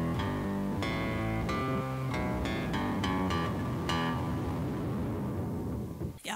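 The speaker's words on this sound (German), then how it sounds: "Da gibt es einmal den Drive. Das macht, dass eure Gitarre sehr, sehr verzerrt klingt." Acoustic guitar run through a drive pedal pushed to heavy distortion, strummed chords buzzing thick and fuzzy at a moderate, steady level, ending with a brief handling noise.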